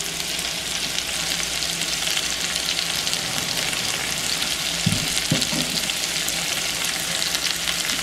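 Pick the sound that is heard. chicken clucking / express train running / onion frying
onion frying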